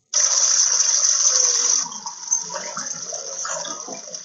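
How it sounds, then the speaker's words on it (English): Loud rushing water from a river or stream near a bridge on a mountain dirt path, part of an Alexa adventure game; a strong steady roar fills the first two seconds, then eases to a softer continuous flow. "The sound of water is loud now."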